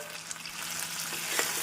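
Chopped onion and tomato sizzle in an oiled pan over medium flame, a soft continuous frying crackle with a brief stir scrape, close and steady.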